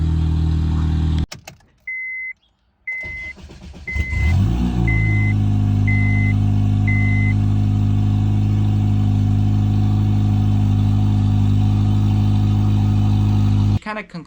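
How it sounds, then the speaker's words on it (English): Car running on E85 fuel with a new starter, cranking briefly and then firing up. A steady, loud idle follows, close up, and a chime beeps repeatedly before the engine catches. "willing to start and crank compared to the old starter"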